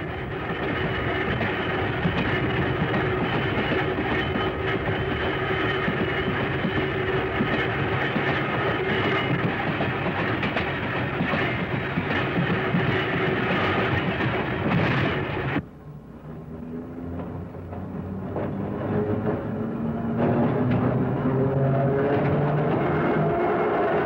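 Los Angeles Red Car electric railway car riding the tracks on the San Pedro line in 1961, a continuous heavy rolling rumble with clattering wheels, easing briefly and then building again with a rising motor whine.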